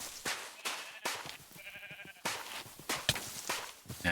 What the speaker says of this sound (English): Attack this sheep here.